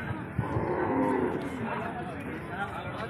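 Cattle low and moo at a busy cattle market near the India–Bangladesh border, with one clear drawn-out moo over a constant background of crowd chatter and livestock noise.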